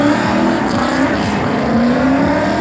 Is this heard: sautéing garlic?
no